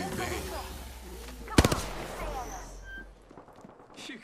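A sharp, loud burst of gunfire rings out in an Apex Legends ranked match, quickly trailing off amid game sounds, with a player talking over the action.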